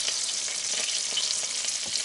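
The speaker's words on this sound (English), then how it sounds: "The lovely butter melting here." Butter melting in a pan for an apple pie cake, a close, steady sizzle with light crackling pops.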